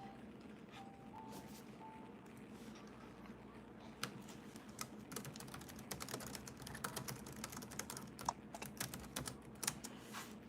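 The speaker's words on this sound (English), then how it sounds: "Just typing some information in the chat here." Quiet, irregular keystrokes tapping on a computer keyboard, bursts of close clicks growing denser toward the end over a faint background hum.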